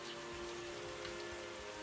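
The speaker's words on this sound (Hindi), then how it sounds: "तभी अचानक तेज बारिश आने लग जाती है।" Sudden heavy rain in a forest, a dense, steady patter of drops on surfaces, close and even throughout, with no voices over it.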